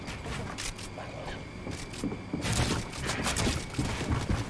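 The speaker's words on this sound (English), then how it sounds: "people are shooting at me too" Gunfire from players shooting in an online video game, dense bursts of rapid shots crackling under an ongoing wash of game noise, growing heavier and closer midway through.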